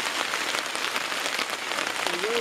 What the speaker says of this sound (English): And then it just starts hailing.